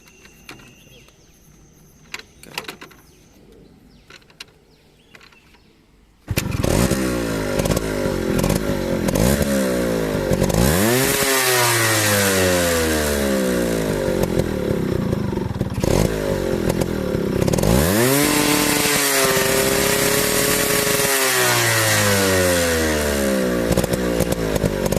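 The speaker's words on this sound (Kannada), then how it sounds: "ಬನ್ನಿ ಸ್ಟಾರ್ಟ್ ಮಾಡಿ ನೋಡಿಸ್ತೀನಿ ಗಾಡಿ ಸೌಂಡು ಕೂಡ" A Yamaha RX 135 two-stroke motorcycle fitted with a cat silencer starts after a quiet few seconds and runs loudly and steadily, with repeated revving swells rising and falling, close by and with no talk over it.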